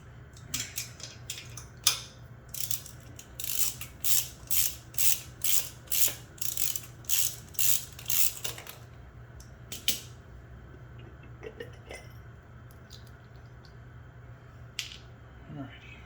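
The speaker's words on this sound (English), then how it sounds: "now I'm going to pull the center bolt." A ratchet wrench loosens the center bolt on a BMW Airhead motorcycle valve cover, clicking in a close, steady run of about a dozen even bursts, then a few scattered clicks and tool sounds.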